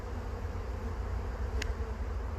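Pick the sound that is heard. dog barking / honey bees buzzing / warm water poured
honey bees buzzing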